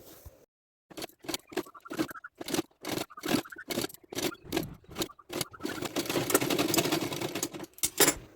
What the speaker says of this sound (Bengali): পট্টি রেডি করে রেখেছিলাম সেটাই এখন সেলাই করে নেব